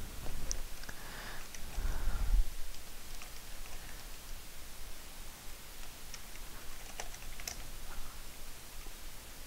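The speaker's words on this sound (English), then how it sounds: "I'm just typing here." Someone types on a computer keyboard, soft clustered key taps in uneven bursts at close range over a steady hiss, with a brief low thump early on.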